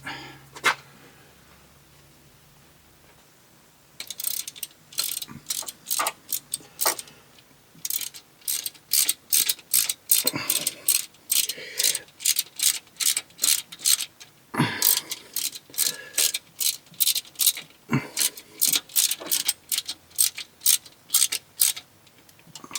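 A ratchet tightens the oil pan bolts on a 2015 Toyota RAV4 during an oil pan gasket replacement, making close, loud bursts of rapid clicking in uneven runs separated by short pauses.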